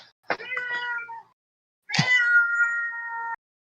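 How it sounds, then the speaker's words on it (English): A house cat gives two distinct, close meows at night, the first short and the second longer and drawn out, with quiet between them and no talk. "Oh, that's my cat wondering where your cat is now."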